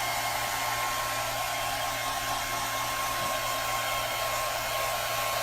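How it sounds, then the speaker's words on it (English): A hair dryer blows steadily and loudly up close over gilded glass artwork, a constant rushing whoosh with a faint whine, no pauses. "I'm just going to hit this with a hairdryer really, really quickly"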